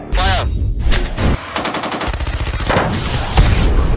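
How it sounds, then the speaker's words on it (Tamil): Gunfire exchange between militants and Indian army troops in the film Amaran: dense, loud volleys of rapid shots and automatic bursts that fill the scene almost continuously. "மாறி மாறி சுட்டுட்டு இருக்காங்க"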